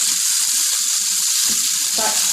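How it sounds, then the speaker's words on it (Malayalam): Chicken roast masala with tomatoes fries loudly in oil, a dense close sizzle with a few stirring scrapes, and no talk. "എണ്ണ തെളിയണ വരെ ഇളക്കിക്കൊണ്ടേയിരിക്കും."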